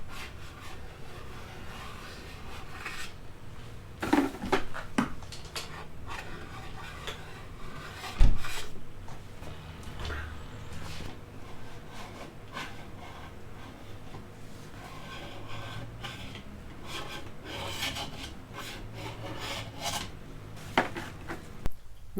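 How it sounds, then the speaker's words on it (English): A putty knife scrapes stripper-softened finish off walnut veneer in a steady series of rough, rasping strokes, fairly quiet and close, with a couple of sharper knocks along the way and no talking. "you can simply scrape off that top layer of finish"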